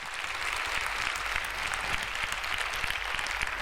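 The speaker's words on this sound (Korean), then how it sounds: "다시 한번 하나님께 박수 올려드려도 될까요?" Steady applause from a church audience at a Korean worship concert, a full room clapping continuously at close range without speech over it.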